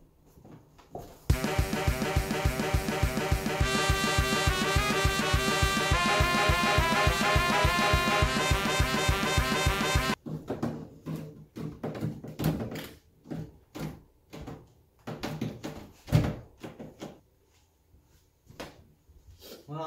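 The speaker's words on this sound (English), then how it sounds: "Now I'm going to attempt to mount the door again." A drafty door is mounted back onto its frame. Loud music fills the first half, then scattered knocks, clunks and thuds of the door being handled follow at uneven intervals.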